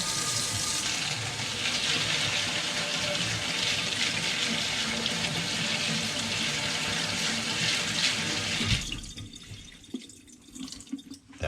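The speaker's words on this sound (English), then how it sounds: "You can prep the seeds by rinsing some water through them." Tap water runs steadily as sprouting seeds are rinsed, a dense continuous splashing rush that stops near the end, leaving a few drips and small clatters.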